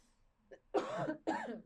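Two quick, close coughs in a row after a faint throat sound.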